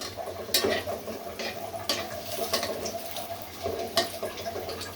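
Sausages frying in a pan with steady sizzling and spattering, punctuated by several louder clinks and scrapes of a utensil as they are turned and lifted out.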